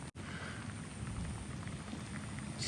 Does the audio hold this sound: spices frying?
no